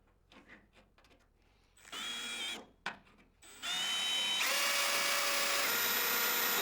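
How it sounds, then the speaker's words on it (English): Power drill boring a hole in a 1940 Chevrolet cab panel: short bursts of whining motor, then a steady high-pitched drilling drone, close and clear without speech. "Drill a hole."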